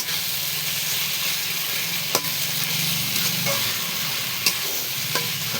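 Dried red chillies, whole garam masala and bay leaves temper in hot oil in a pan, giving a loud, continuous sizzle broken by a few sharp crackles and pops.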